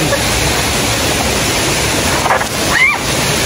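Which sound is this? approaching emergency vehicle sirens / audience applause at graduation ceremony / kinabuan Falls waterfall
kinabuan Falls waterfall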